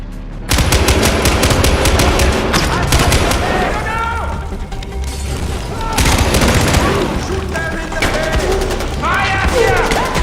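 Dense gunfire in the video game Far Cry 4, sustained automatic bursts and booming shots, loud and continuous, with shouting voices mixed in among the firing.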